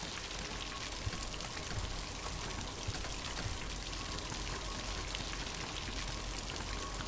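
Water pours in a steady, dense rush over a character in Ministry of Broadcast, an even hiss with scattered droplet spatters that holds unchanged from start to finish at a fairly low level.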